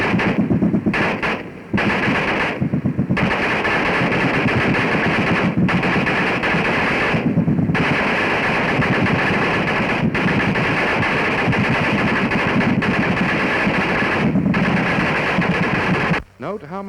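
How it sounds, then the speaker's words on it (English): Heavy and light machine guns firing, heard from the receiving end in a 1942 training recording: long rapid bursts of fire with brief gaps, loud and close, bullets cracking past alongside the distant reports. "Listen for the flight of the bullets and the report of discharge of the guns."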